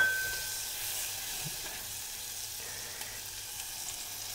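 Butter sizzling in a pan for a Turkish red lentil soup, a soft, even hiss that holds steady throughout at moderate volume, with no voices.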